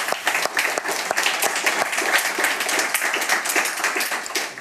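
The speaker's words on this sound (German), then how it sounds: "an dieser Stelle einen schönen Applaus" Lively applause from a gathered audience at a welcome session, dense crisp clapping with distinct individual hand claps popping out, loud and fairly even with slight swells.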